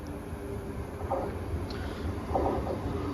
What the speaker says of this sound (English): Anyway, here's my train.